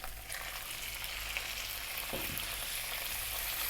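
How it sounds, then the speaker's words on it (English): Onion and meat frying in olive oil in a small pan over above-medium heat, a steady close sizzle and crackle throughout with a brief stirring scrape near the middle. "I've got some olive oil in there. I'm going to drop in the onion and your meat of choice"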